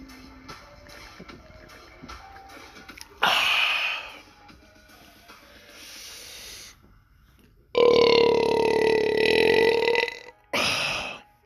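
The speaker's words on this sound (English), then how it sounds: "He does a huge burp" A person lets out a huge, drawn-out burp, followed by more loud belching bursts, with quieter shuffling and breathing in between.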